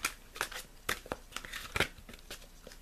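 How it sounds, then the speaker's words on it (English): A deck of angel oracle cards is shuffled close by, giving irregular papery flicks and rustling bursts over about three seconds, with no talking. "I'm going to take the deck in hand and I'm going to shuffle the cards"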